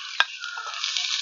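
Chopped garlic sizzles in hot coconut oil, a steady bright crackle close by, with a short clatter of stirring at the start and no talk.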